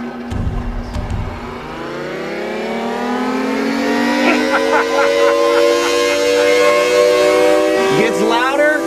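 A restored civil defense siren with spinning horns winds up, its rising wail climbing steadily in pitch and growing louder, with pulsing modulation as the horns rotate; brief speech at the start.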